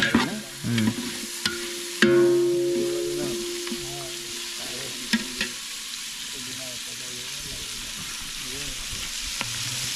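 Onions frying and being stirred in a pot for a village chicken biryani party outdoors, with loud sizzling, clanking utensil strikes and scraping stirs, a few brief voices in the background.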